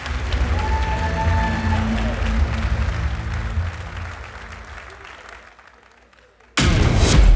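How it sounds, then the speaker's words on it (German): Crowd applause at an NFC combat sports event for heavyweight fighter David Balevski, a loud sustained wash of clapping with a few voices that fades, drops out, then bursts back in abruptly. "nochmal großen Applaus für David Walewski"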